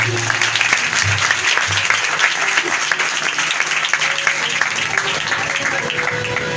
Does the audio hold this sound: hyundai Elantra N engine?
no